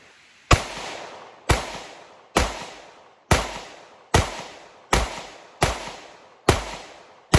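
Sig P365 X-Macro pistol fired at an outdoor range, nine sharp, loud gunshots in a steady rhythm about one per second, each with a decaying echo tail, no talking.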